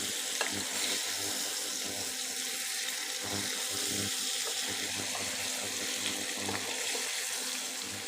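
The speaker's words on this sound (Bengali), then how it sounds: "এখন দেখুন আমগুলো কি সুন্দর ভাজা হয়ে গেছে।" Steady broadband hiss of mango pieces frying in a pan for pickle, with faint clinks and stirring noises on top, continuous and fairly close.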